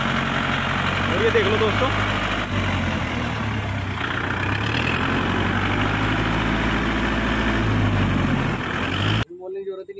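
Diesel engine of a Kubota MU4501 45 HP tractor runs with a steady, close, low rumble while someone talks over it. The sound cuts off abruptly near the end.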